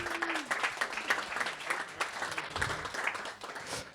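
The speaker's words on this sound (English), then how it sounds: "A lot of applause." Applause from the audience at a tech user group meetup in Berlin, a moderate stretch of scattered clapping with a few voices in the room, held at a fairly even level.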